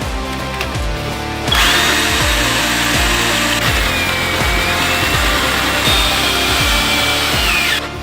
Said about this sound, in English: I used some tap cons and pre-drilled the concrete and just kind of countersunk the screw a little bit.